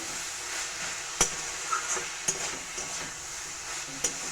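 Spices, cumin and tomato being stirred in a frying pan make a soft continuous sizzle, punctuated by a few sharp scrapes and taps of the spoon against the pan.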